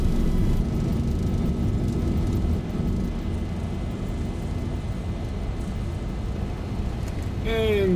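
Boeing jet engines roar at takeoff thrust during the takeoff roll, a loud, steady broadband rumble heard from inside, with a brief rising whine at the very end.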